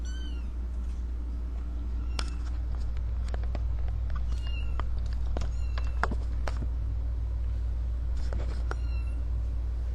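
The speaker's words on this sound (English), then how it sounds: "So that's a pack of 4 kittens." A box of four kittens meows in several short, high cries scattered over a steady low background hum, with faint human voices now and then.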